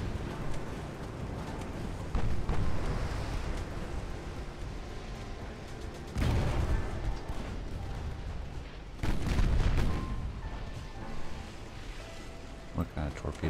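Naval artillery salvos from warships in the naval strategy game Ultimate Admiral: Dreadnoughts, heavy booming blasts that recur over a continuous rumbling battle backdrop, with someone talking throughout.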